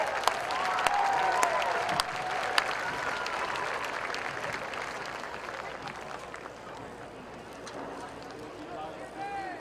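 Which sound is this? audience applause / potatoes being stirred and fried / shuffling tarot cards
audience applause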